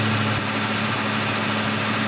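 A high-mileage 2002 Mustang with the 3.8 V6 idles with a steady low hum and a faint irregular knock, heard alone and close.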